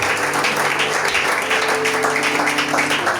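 Warm, sustained applause fills a church as the congregation claps together, a dense wash of hands lasting the whole moment with faint voices and a lingering tone underneath.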